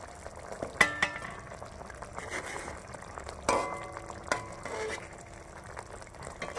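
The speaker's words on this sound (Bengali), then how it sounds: "এইভাবে পাল্টে দেবেন মাছগুলো।" Fish frying in mustard sauce sizzles steadily in a pan while a utensil flips the pieces, with a few sharp clinks and scrapes against the metal.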